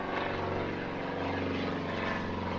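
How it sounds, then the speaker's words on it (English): A small propeller plane drones low overhead, its engine a steady, loud, continuous hum with a throbbing propeller beat, heard alone with no talk. "There's a plane like 50 feet over my head here."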